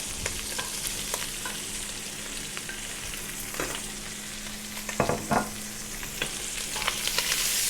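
Onions sweat gently in a pan with a soft, even sizzle. Scattered light clicks and scrapes of stirring rise above it, with a couple of louder strokes near the end.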